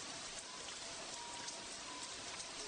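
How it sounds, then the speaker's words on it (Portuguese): Steady rain falls throughout, a dense, even hiss of drops on surfaces with no breaks, fairly soft and with no voices over it. "Está realmente chovendo agora."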